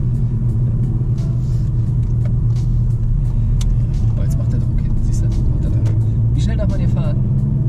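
A car is driven during a driving lesson, giving a steady low engine and road rumble inside the cabin throughout, while people talk over it.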